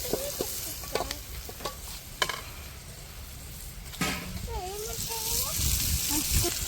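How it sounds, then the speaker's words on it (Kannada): Green chillies fry in a pan with a soft, steady sizzle and a few scattered stirring clicks, fairly quiet throughout. "ಹಸಿ ಮೆಣಸಿನ್ಕಾಯಿ ಕರೋಣ ಸ್ವಲ್ಪ ಫ್ರೈ ಆಗುತ್ತೆ"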